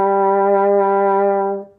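French horn holding one steady, rich sustained note for under two seconds, loud and close, cutting off at the end with no voices.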